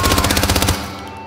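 Gunfire in the video game Hitman 2: a loud, close burst of rapid automatic shots with a regular stuttering rhythm, cutting off abruptly into a fading ringing tail.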